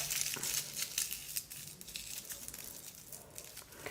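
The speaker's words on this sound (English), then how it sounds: "I just have a little scrap piece of tissue paper here, and I'm just going to crumple it up." Tissue paper is crumpled up close, a run of crisp crinkling rustles that tapers off into softer handling.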